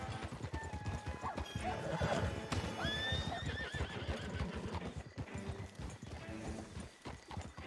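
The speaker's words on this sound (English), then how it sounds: "I hear another horse outside at this landing." Horse in a Western-themed video game, with close clip-clop hoofbeats and loud whinnies and snorts over a busy game soundscape, no speech.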